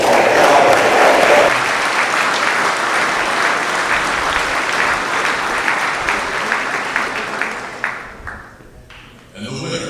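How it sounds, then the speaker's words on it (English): Sustained applause from an audience at the Hawaii Air National Guard awards ceremony, honoring squadrons: full, steady clapping from a crowd that holds strong for about eight seconds, then thins and tapers off near the end. "Please give a round of applause to these great organizations."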